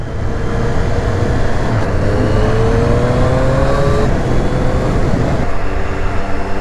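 A 2020 Triumph 765 Street Triple RS motorcycle engine drones loudly and steadily, its pitch sweeping upward under acceleration before a brief dip and recovery near the end.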